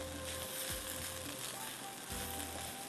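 Garlic fried rice sizzling steadily in a hot pan as it is mixed, with a few scraping stirs of the spatula.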